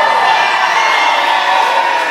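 A wrestling event crowd cheers in a steady, loud, dense roar of voices that holds without a break for a couple of seconds.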